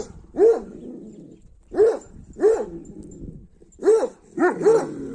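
A female Kangal guard dog gives five separate deep barks at close range. They come in an uneven rhythm with short pauses between them and no other sound in the gaps.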